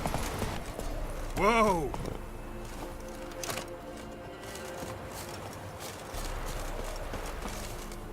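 Roach the horse in The Witcher 3 video game, a neigh followed by hooves clip-clopping at an unhurried pace indoors, with a voice calling out over game ambience.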